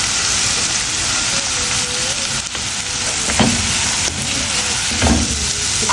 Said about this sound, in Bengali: এটা একটু ভালো করে ভাজা হোক